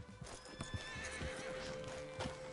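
A horse in Red Dead Redemption 2 clip-clops away on hooves with a clear whinny, the steps and neigh fairly close over a steady game ambience, with no talking.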